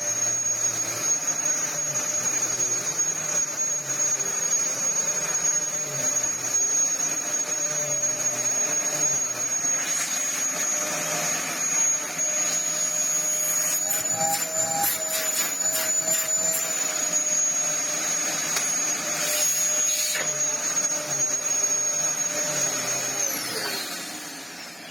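A Dyson vacuum cleaner runs steadily on the floor, a close, continuous whine and rushing airflow with a high tonal hum, holding nearly unchanged for about twenty-five seconds before easing slightly at the end, no voices.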